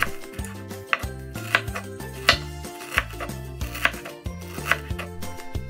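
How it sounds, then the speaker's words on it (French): A knife slices a fibrous root into thin slices on a cutting board, giving crisp, evenly spaced cuts in a steady rhythm, close and clear with no talking. "on va couper les bords, on enlève la partie extérieure, et ensuite on coupe des lamelles"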